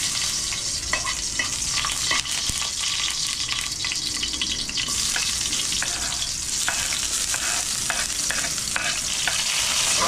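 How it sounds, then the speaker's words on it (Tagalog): Mussels (ginisang tahong) sauté in a hot pan, a steady loud sizzle with repeated scraping stirs throughout, no talking. "Gigisahin ko na yung aking tahong mga kabads."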